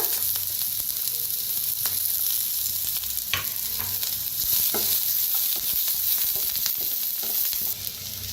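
Onion frying in hot oil with garlic and ginger added, a steady loud sizzle with occasional spoon scrapes and clinks against the pan throughout.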